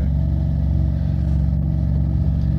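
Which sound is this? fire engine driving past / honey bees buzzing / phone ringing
fire engine driving past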